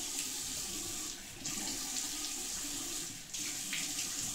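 Hot water from a bathroom tap pours steadily into a sink during a wet shave. The stream hisses continuously and closely, with two brief dips where something passes under the flow.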